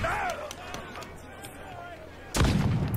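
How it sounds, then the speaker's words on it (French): A ship's swivel cannon fires in Assassin's Creed IV: Black Flag, a heavy boom bursting in near the end over game ambience and crowd noise, after a voice speaking French. "Je pense que le plus important, c'est le canon à pivot."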